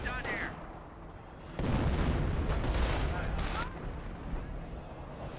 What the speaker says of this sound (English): Direct hit there by the artillery barrage.